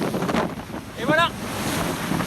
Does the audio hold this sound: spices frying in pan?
no